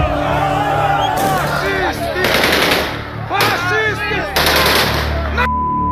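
Rapid automatic gunfire at a street protest, apparently from armoured vehicles, rattles out in several loud, close bursts, with crowd noise and voices between them.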